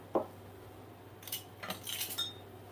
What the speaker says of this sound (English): whisking that together or stirring it together